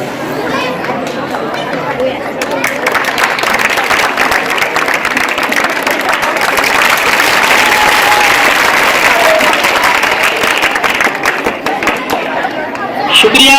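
Applause at a school annual function welcoming a teacher to the stage: sustained, dense clapping from a large audience swells and continues, mixed with chatter and children's voices throughout.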